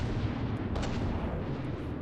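Naval shells fire in a video game sea battle, a loud, dense, continuous booming roar with one sharper blast partway through and no pause.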